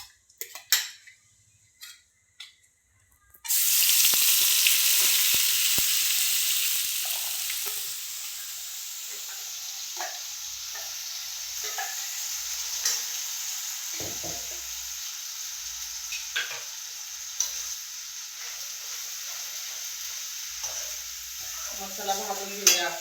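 Ground masala paste with a bay leaf sizzles and fries steadily in a hot pan, a loud burst at the start settling into a continuous crackle with occasional scrapes and clinks of a spoon stirring.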